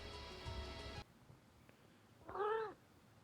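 A cat gives a single clear meow with a rising and falling pitch, heard near and alone after a short burst of background music stops.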